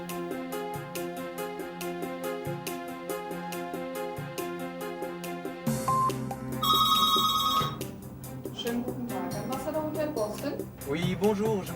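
A telephone rings in repeated regular electronic pulses, followed by a brief bright tone and muffled background voices and clatter.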